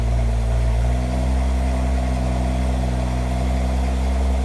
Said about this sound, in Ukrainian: машинка запустилась, працює, вона знаходиться в дистанційному запуску під охороною